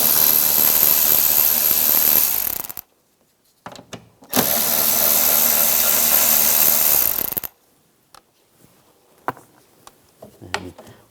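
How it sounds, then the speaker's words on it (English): Two loud, close bursts of a power tool driving a 10mm socket remove the nuts holding a side mirror on a 2004-2009 Toyota Prius, each burst a few seconds long, followed by quiet clicks and handling sounds. "Using a 10mm socket, take these 3 nuts out."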